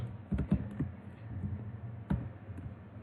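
Code being typed on a computer keyboard in a text editor, a steady run of light key clicks with a few louder taps, close by and quiet, with no talking.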